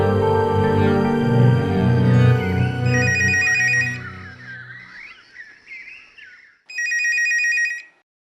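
A telephone rings loudly indoors in bursts of bright electronic trills, with chirpy birdsong in the background and a short pause before another ring.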